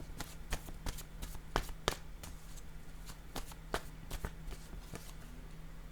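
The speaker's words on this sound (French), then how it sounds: "Je vais déposer une carte sur le cadran." Cards are handled and laid down during a tarot-style card reading, producing quiet, scattered sharp taps and brief shuffling flicks at an irregular pace, close by, with no talking.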